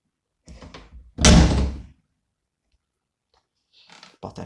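A door slams shut in a loud, close bang, preceded by a few softer handling knocks, then silence before faint rattling clicks at the end.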